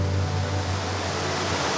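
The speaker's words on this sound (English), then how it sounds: "and also the waterfall in the background" A waterfall roars steadily in the background of a landscape, a dense, even rush of falling water that stays loud and unbroken throughout, with no talk over it.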